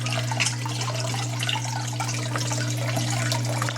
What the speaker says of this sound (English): just dripping into the sugar bowl